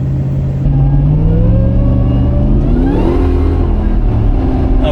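A heavy modified truck with big axles and a big motor, weighing around 6,000 pounds, accelerates hard on a wet road, its engine note rising loud and close as it revs up through the gears.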